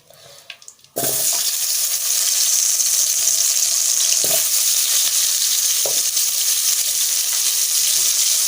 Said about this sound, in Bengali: তেল দিলাম এবার আমি আলুগুলোকে ভেজে নেবো